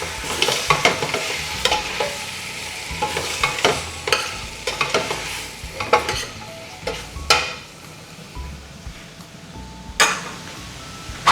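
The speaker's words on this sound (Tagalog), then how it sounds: "Haluluin natin siya para mag-combine yung ating mga ingredients." Bitter gourd sautéing in a frying pan as a utensil stirs it, giving repeated scraping clinks and rustles over a steady sizzle, close and fairly loud with no talking.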